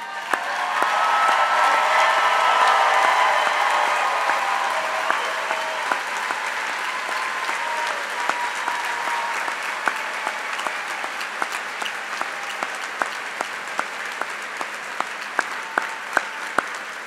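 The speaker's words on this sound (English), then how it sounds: "Please join me in a rousing round of applause." A large crowd at a community college commencement ceremony applauds its new graduates in a loud, sustained round that peaks early, then gradually thins into scattered individual claps toward the end.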